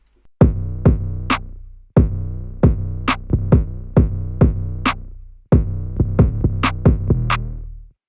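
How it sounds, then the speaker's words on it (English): Looping trap drum pattern from an FL Studio beat: booming 808 kicks with long sustained low tails under crisp snare-and-clap hits, loud and steady, repeating across several bars with no voices. "So all the drums so far, they all sound like this."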